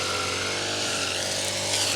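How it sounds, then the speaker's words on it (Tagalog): A grass cutter runs close by, its small engine giving a steady, loud buzzing drone with no break. "Nag-grass cutter."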